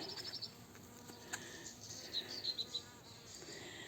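Bees buzzing around raspberry bushes outdoors, a faint soft hum with a few brief higher buzzy passes nearby against quiet background.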